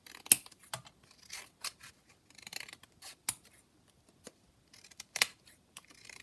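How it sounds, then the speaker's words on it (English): Scissors trim the edges of a paper page for a junk journal, with short crisp snips and rustling paper at close range, spaced irregularly and fairly quiet. "So I'm just going to trim it here and then again on this edge here."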